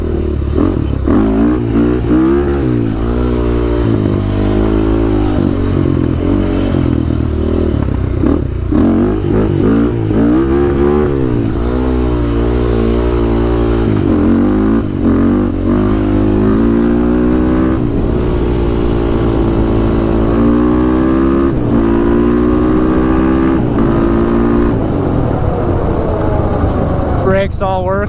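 A Honda 400ex quad with stage 2 Hotcams revs loudly and close, its engine rising and falling through repeated throttle blips over a steady idle, with wind noise and some talk mixed in.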